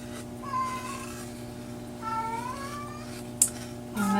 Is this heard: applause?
no